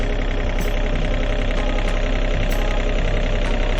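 A Yanmar diesel engine on a Hitachi ZX35 excavator idles with a steady, close, loud rumble and a faint knocking texture, unbroken and with no voices.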